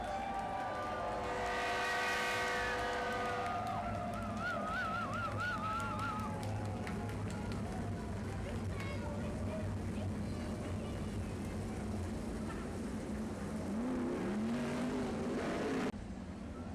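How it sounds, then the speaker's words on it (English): IRA Outlaw sprint cars race bumper to bumper, four abreast at the start, their engines roaring loudly and continuously with rising and falling pitch as the pack passes, along with a whistle-like whine early on. "This is the bumper to bumper IRA Outlaw Sprint Car."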